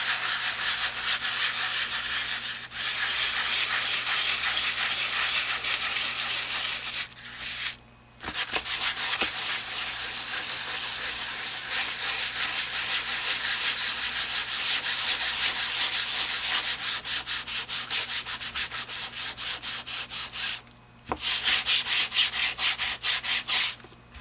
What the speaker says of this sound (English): I'm just lightly sanding, okay?